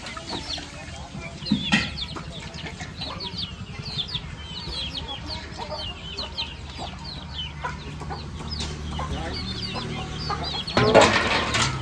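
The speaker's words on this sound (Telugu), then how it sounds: "కోళ్ళు చూడండి ఎంత చికాయ చేస్తున్నాయో" Several chickens cluck and squawk restlessly close by, with scattered calls throughout and a louder burst of fussing near the end.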